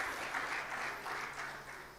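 Conference audience applauding the speakers, session chair and volunteers, a steady wash of many hands clapping at moderate, fairly distant level throughout, no voices over it.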